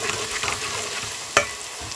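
Ginger-garlic paste frying in a pan gives a steady, moderate sizzle up close, with a single sharp scrape or clink from a utensil partway through and no talking.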